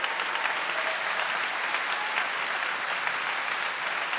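A congregation applauds at a church worship service, a continuous, even roar of clapping heard from a distance with no distinct voices, holding steady throughout.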